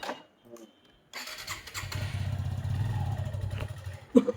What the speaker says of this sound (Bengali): বাইক স্টার্ট দাও।